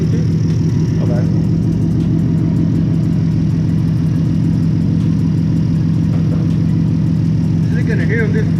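A car engine idling steadily with a deep, constant low rumble from an exhaust leaking near the headers, close and loud, with people talking over it at times.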